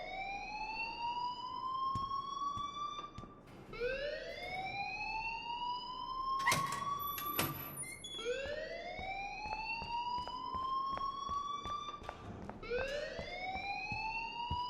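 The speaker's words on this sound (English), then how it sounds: "please turn off that alarm since that's your job." An alarm in the Life Is Strange video game sounds in repeated rising wails, each sweeping up and holding before restarting, loud and steady, with a couple of sharp bursts partway through.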